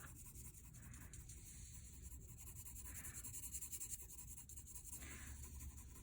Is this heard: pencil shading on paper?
yes